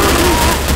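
Dense, continuous gunfire in a Counter-Strike: Source zombie escape match, loud and close in a short burst, with a voice speaking underneath.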